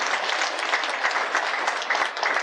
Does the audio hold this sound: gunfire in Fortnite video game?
no